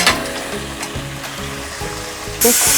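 Potatoes and eggs frying in biryani masala for chicken biryani, a steady close sizzle with a few stirring scrapes and clinks of a utensil against the pan, growing louder and hissier near the end.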